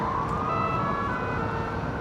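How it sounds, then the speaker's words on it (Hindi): Ambulance sirens wail on Toronto streets during a heavy snowstorm, a steady rising-and-falling tone holding for the whole stretch at moderate distance, with low road and traffic rumble underneath and no talking. "और हर तरफ एम्बुलेंस के सायरन बज रहे हैं।"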